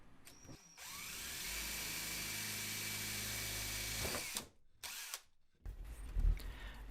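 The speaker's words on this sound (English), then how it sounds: "Line up your Forstner bit again and finish off the hole." A drill bores through wood with a Forstner bit to finish a hole for a lazy Susan, giving a steady close whirring drone for about three seconds. Short motor bursts and handling noises follow, with no talking.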